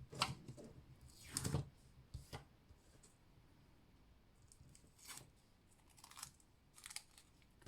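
Scissors snip through a 30 cm length of thread for making pompom earrings, a few quiet, close crisp cuts with soft handling noises in between, no talk.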